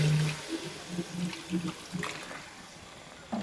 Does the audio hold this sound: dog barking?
no